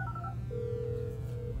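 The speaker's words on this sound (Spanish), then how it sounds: "Está sonando el teléfono." In GTA V, an in-game phone call produces a short electronic tone followed by a longer steady ringback tone, heard at moderate volume over a low game hum.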